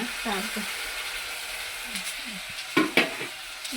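Sliced onions fry in hot oil in a pan with a steady, close sizzle, and a couple of sharper clinks from stirring near the end.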